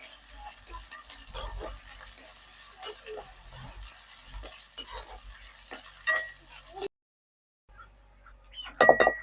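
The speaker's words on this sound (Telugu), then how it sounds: "అల్లం వెల్లుల్లి పేస్ట్ పచ్చి వాసన పోయేంత వరకు ఇలా నూనెలోనే ఉడకబెడతాను" Ginger garlic paste fries in oil while it is stirred: irregular scraping and clicking strokes sit over a soft sizzle, with a short silent gap before a few louder knocks near the end.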